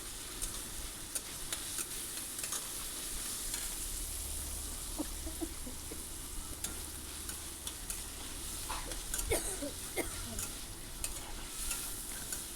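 Tomato browning with onions and spices in a pan for veg pulao, a steady close sizzle and frying hiss with occasional stirring scrapes and clicks, no voices.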